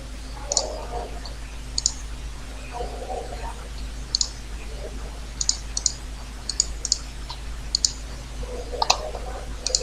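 Scattered computer mouse clicks, sharp and close, a few isolated taps and some quick pairs over a steady low hum, with faint low murmurs between them.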